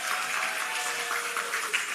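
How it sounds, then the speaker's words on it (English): Moderate applause from an audience at an adult continuing education commencement, honoring the staff, a brief steady patter of many hands. "please give the staff at ACE a round of applause"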